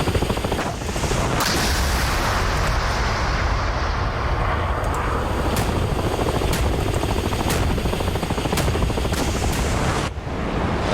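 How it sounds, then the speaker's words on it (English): Naval guns and missiles fire in DCS World during a clash between the USS Constellation and the Admiral Kasatonov, a dense continuous roar with repeated sharp gun reports punching through, loud and sustained throughout. "we've really got those guns going"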